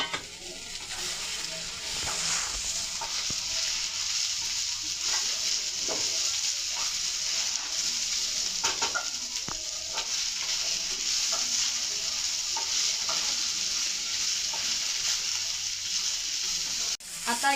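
Okra stir-frying in a pan with onion and tomato, a constant hissing sizzle throughout with occasional soft stirring scrapes and clicks.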